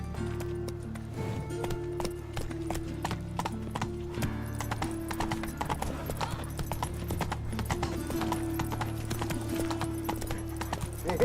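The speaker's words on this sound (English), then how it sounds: "Hello, my horse." Horse hooves galloping in The Witcher 3 Wild Hunt, a rapid steady clip-clop beat on the ground with occasional whinnies, loud and close over a low ambient game score.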